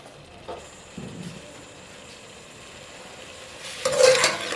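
Half a kilo of potatoes going into a hot pot of oil for aloo pulao, a low bed of sizzle with a few stirring scrapes and clinks, swelling into a louder burst of frying near the end.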